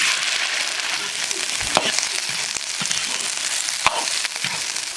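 Shrimp tails fry in oil in a wok with a dense, steady sizzle, loud and close, broken by a few sharper crackles and pops.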